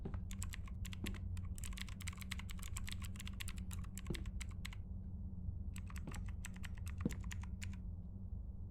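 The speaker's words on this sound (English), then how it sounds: "That sounds like mechanical key switches" Steady rapid clicking of mechanical keyboard key switches in a video game, continuous typing with a brief pause midway, close over a low background hum.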